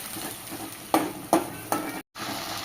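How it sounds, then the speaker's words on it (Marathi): Ginger garlic paste being stirred into a hot pan for chana masala, a steady fry hiss under three sharp scraping strokes of the spoon and a brief dropout, close and alone with no talk. "त्याच्यानंतर आलं लसणाची पेस्ट मिक्स करून घेऊया"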